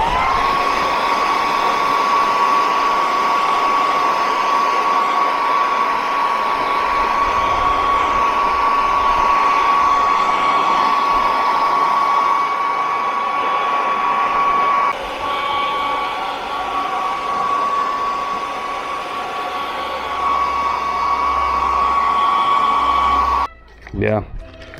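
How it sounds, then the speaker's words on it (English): A heat blower warms the fuel tank of a Yamaha Tracer 9 motorcycle and a tank pad sticker, giving a steady, loud, continuous whine and rush of air for about 23 seconds before it cuts off abruptly near the end. "we are gonna heat up a bit the fuel tank, and we are gonna heat up this tank pad sticker."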